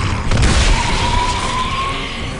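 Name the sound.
sawed-off shotgun blast in video game Gears of War 3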